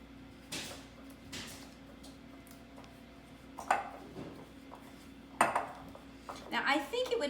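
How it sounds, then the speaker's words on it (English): Granulated sugar stirred into butter by hand in a bowl, heard as scattered scraping and clinking knocks of a utensil against the bowl, sparse and fairly quiet, growing busier toward the end. "And to that I'm going to add a 1/4 cup of regular granulated sugar. Just mix it together."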